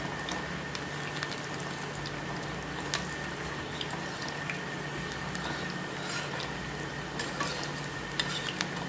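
Leftover chapati pakodi balls fry in hot oil over a medium-low flame, a continuous close crackling sizzle with scattered pops and bubbling, no voices over it.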